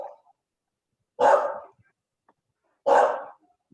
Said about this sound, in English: Is that someone's dog?